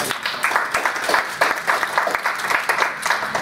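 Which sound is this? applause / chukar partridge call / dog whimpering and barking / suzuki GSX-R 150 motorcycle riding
applause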